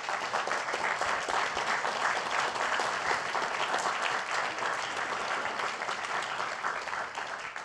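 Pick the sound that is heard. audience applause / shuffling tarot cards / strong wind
audience applause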